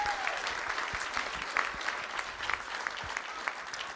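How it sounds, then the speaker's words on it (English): An audience at a school district board of trustees meeting applauds for a volleyball coach: several seconds of steady, dense clapping from a room of people, with no voices over it. "Let's give Coach Pettibon a big round of applause."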